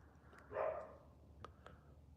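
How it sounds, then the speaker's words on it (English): One muffled dog bark comes from somewhere outside, faint and distant, followed by a couple of short, sharp ticks in otherwise quiet surroundings. "Oh, you can hear the dogs?"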